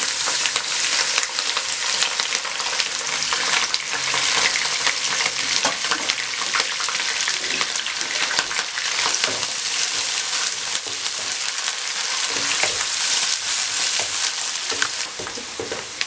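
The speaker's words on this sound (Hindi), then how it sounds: "2 मिनट से कम टाइम में बंद गोभी यानी कैबेज फ्राई होगी" Shredded cabbage frying in a hot pan alongside capsicum, a steady, dense sizzle that stays loud and even throughout with occasional stirring noises, close up and without any voices.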